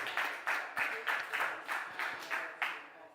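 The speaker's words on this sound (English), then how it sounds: "Round of applause, ladies and gentlemen" An audience at a COP28 science event claps to welcome a young speaker to the stage, the applause coming in steady rhythmic waves, close and moderately loud, as if clapping in unison.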